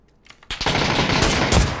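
Automatic weapon fire in the battle royale video game PUBG, a sudden loud burst of rapid gunshots that cuts in after a quiet moment and keeps rattling on with heavy, dense shots.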